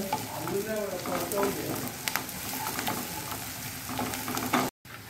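Chopped onion sizzles steadily in hot oil in a pan while a spoon stirs it, scraping repeatedly against the metal. The frying is close and continuous, with a faint voice at the start.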